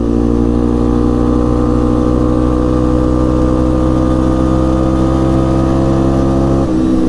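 A 1998 Yamaha Big Bear 350 4x4 ATV engine running loud and close, holding a steady drone as it pulls through its closely spaced gears, with a brief dip near the end as it shifts.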